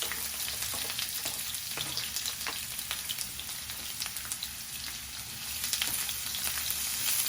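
Chopped onions sizzle in a pan of hot oil while cooking ginisang lechon, a close, even frying crackle lasting about seven seconds with light stirring clicks and no talking.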